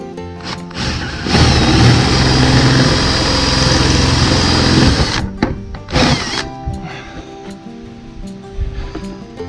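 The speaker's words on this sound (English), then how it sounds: "So I keep the drill at kind of an angle." A power drill drives steadily through the wall of a cargo trailer, loud and close for several seconds, then stops, revs once more briefly and falls to quiet clicks and handling noises.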